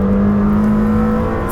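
Lamborghini Temerario engine pulling hard out of a corner under oversteer, a loud steady close-up drone with a strong low tone, sustained without a break and with no talking.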